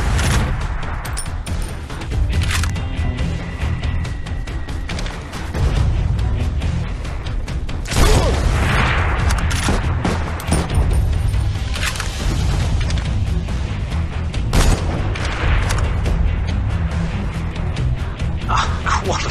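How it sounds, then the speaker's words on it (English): Gunshots in the Sniper X mobile game, several loud sharp reports over a dense, booming game soundtrack, with brief pauses between shots. "Shots fired!"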